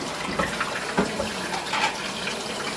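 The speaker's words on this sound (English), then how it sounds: "Get the warm water running" Warm water runs steadily from a tap into a sink while chocolate is rinsed from a cap, a continuous close splashing rush with small irregular surges.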